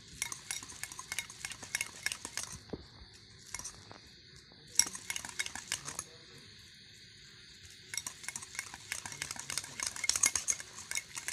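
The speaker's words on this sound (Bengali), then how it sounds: "এবার দইটা আমি ভালো করে মিশিয়ে নিচ্ছি।" Strained sour yogurt, thick like curd, being stirred in a bowl with a spoon, giving repeated soft clinks and scrapes of utensil against dish in steady bursts, fairly close and quiet.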